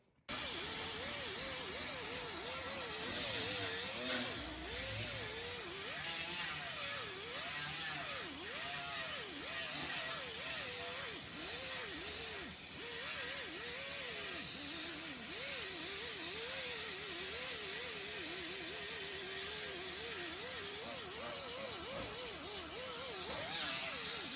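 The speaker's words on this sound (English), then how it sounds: "I'm gonna run the air compressor for a while." An air compressor runs in a metal-shaping workshop, giving a loud, steady hiss that fills the whole stretch with a faint wavering whine on top.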